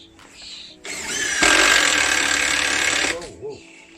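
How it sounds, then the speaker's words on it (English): A power drill drives a screw through a wooden leg, a loud steady whir with a brief lighter start before the main run, ending abruptly; faint voices and a small knock sit before and after. "Drill out of my pocket and bring it round here"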